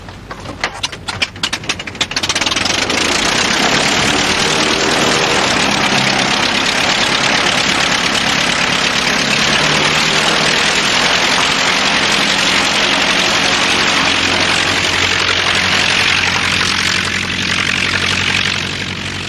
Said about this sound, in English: That engine's running a bit rough, isn't it? Dirty petrol.